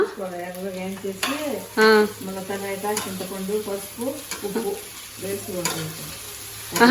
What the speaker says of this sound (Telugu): బెండకాయ పచ్చిమిర్చి ఏం చేయాలి వేయించుకోవాలా